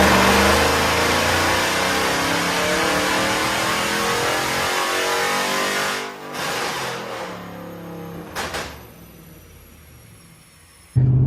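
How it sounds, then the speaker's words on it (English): A Dodge Challenger R/T fitted with long-tube headers, its exhaust roaring loud and close in sustained revs, then dropping off with a couple of short throttle blips near the end. "all it did was add the exhaust tone that I wanted, which it made it sound more aggressive, more roary."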